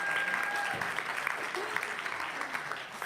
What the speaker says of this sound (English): let's give Terrill another round of applause